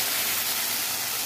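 Tomato puree hitting a hot pan of browned onions gives a loud, steady sizzling hiss that fills the whole moment with no pauses.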